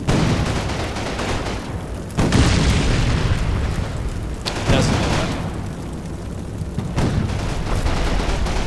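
Tank ammunition cooking off in Combat Mission: repeated heavy booms and popping bursts, loud and close, with a big blast near the start and further eruptions spaced through the stretch.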